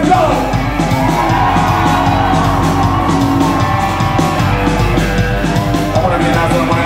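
A concert crowd screams and yells nonstop at full volume, a dense, loud wall of cheering voices with no pauses.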